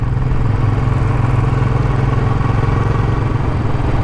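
Red and chrome Royal Enfield Classic 350 motorcycle engine running steadily on a ride across open moorland, a loud, close, continuous low thump and rumble with no voices over it.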